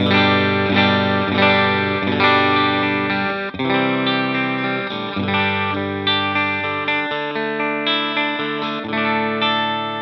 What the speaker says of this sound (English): I'm going to do some spring reverb, like a darker one.